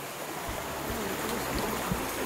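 River flowing beside a riverside glamping campsite at Gayo River Camp in Pengalengen, a steady broadband rush of water, continuous and even, with faint low thumps underneath and no talking.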